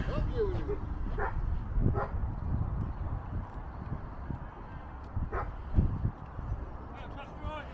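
A police dog unit barks in a car park: a few sharp, fairly close barks and yips stand out over steady background noise while people talk.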